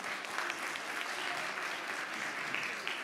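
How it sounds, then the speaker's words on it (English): Applause from the audience at a mayoral candidate forum, a steady wash of many hands clapping continuously for a few seconds, moderately distant and fairly quiet, with no talking. "Please, everybody, give them a round of applause as they go."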